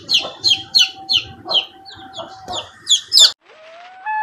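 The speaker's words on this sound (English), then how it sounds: "Baby chicks." Young chickens give a rapid series of high, clear peeping calls, about a dozen in quick rhythm, loud and close, ending with a sustained rising tone.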